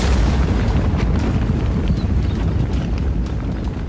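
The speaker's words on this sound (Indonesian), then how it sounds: "di mana terjadi ledakan dalam skala yang lebih luas." Deep, sustained rumbling roar of a large explosion, loud and dense from start to finish with a crackling low-end texture.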